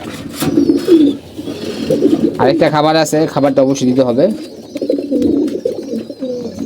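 Domestic pigeons coo in a breeding loft, their soft, repeated throaty calls close by and mixed with a person talking over them.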